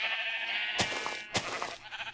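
Sheep in modded Minecraft bleat steadily on a wool farm, a continuous nasal cry broken by two sharp clicks or hits, with fainter bleats trailing at the end.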